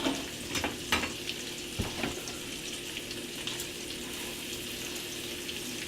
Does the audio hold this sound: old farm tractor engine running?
no